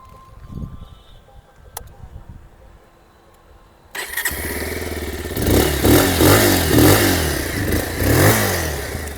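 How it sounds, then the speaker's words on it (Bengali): A Bajaj Pulsar 180 motorcycle starts up after a quiet stretch, its exhaust bursting into a loud, close, rough idle that is revved several times in uneven surges. "চলুন এবার পালসারের যে এক্সস্টের সাউন্ড"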